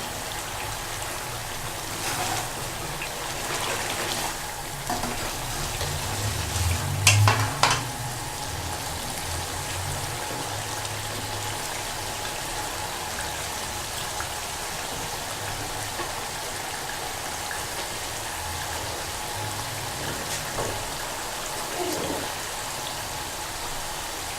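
Chicken karahi sizzles with a continuous, rain-like crackle as it is fried down in the wok, with a brief burst of louder clattering partway through.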